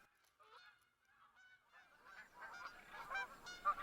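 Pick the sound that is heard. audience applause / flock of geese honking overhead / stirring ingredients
flock of geese honking overhead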